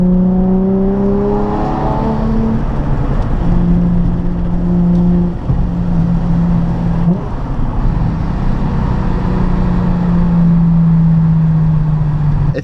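A Nissan 350Z engine revs loud and close while driving a canyon road, rising and falling through gears with a steady engine drone, a brief dip near the middle, then climbing again.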